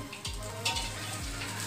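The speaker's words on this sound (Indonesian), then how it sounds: "Inilah tutorial cara menggoreng telur." An egg frying in a pan gives a close, steady sizzle and crackle with small pops throughout, heard alone without talk.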